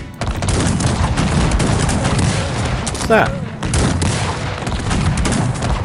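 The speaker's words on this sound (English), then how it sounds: "It's like a cannon fired" Loud cannon fire and volleys rumble in the strategy game Cossacks 3, with a heavy boom and crackling blasts over a dense battle din, and a voice speaks briefly partway through.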